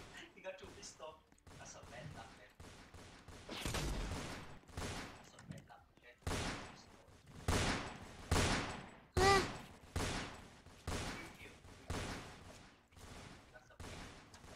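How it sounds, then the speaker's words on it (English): Repeated bursts of machine gun fire in the Roblox game Fortnite Simulator, with loud volleys coming in clusters and brief gaps between them, heard under a player's frequent talking. "Machine gun."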